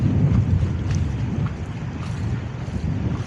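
Gusty wind at the shore buffets the microphone in a constant low roar, with water moving faintly beneath, steady and close with no talking.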